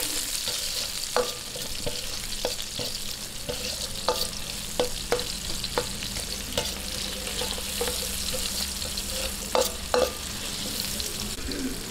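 Onion sautés in hot oil for chicken sotanghon soup, a continuous close sizzle punctuated by repeated sharp clicks and taps of a spatula stirring the pan.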